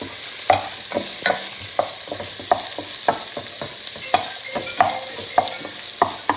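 Onion, green chili, garlic and ginger sauté together in a pan, with a soft frying hiss under regular scraping and tapping strokes of a spoon stirring, close and without talk.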